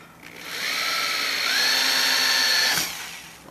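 A power drill drives screws to mount a mast bracket near a chimney: one close, loud whine that ramps up, holds steadily with a rising pitch for about two seconds, then cuts off.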